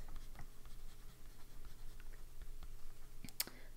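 Extra fine fountain pen nib scratching steadily across paper, filled with Van Diemen's ink, giving faint, close, continuous writing strokes with a brief sharper tick near the end.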